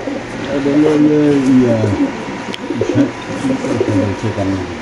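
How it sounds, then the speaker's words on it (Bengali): Racer pigeons, black birds among them, coo in low repeated rolling phrases, close and fairly loud, with several birds overlapping throughout at a pigeon market while people talk nearby. "ব্ল্যাক রেসার কবুতর"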